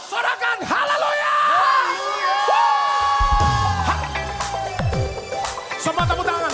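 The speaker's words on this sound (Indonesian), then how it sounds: "Semua bersorak bersama-sama. Sorakan haleluya." A church congregation at a Good Friday service cheers and shouts hallelujah together, a loud mass of overlapping yells and whoops, with a voice over a microphone leading the crowd.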